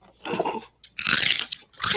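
A pet rodent crunching on a stick of celery, with crisp, loud bites arriving in uneven bursts separated by short pauses, heard up close.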